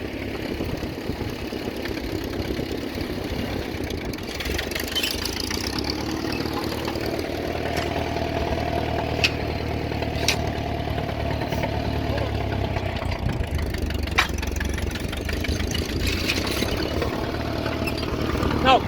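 Allis Chalmers WD45 tractor rolling forward in second gear in a field, its engine a continuous steady rumble close by, with faint talk in the background.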